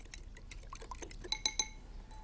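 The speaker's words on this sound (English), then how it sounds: "Give it a good old whisk" Light, rapid clinks and taps of a whisk against a bowl while milk and egg are mixed, a quick irregular run of small metallic chinks, close and fairly quiet.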